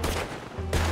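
Gunfire in Red Dead Redemption, heard as loud, dense bursts of shots at the start and again near the end, with a quieter gap between them.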